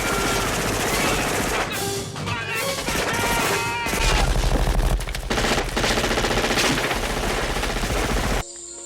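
Dense automatic gunfire rattles nonstop in a Predator movie jungle battle scene, loud rapid bursts layered with crashes and impacts before cutting off abruptly.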